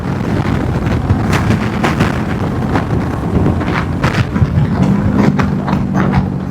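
A cruiser motorcycle's exhaust burbles under engine braking while riding, a loud, rough low rumble buffeted by heavy wind noise, with irregular pops and a steady drone near the end.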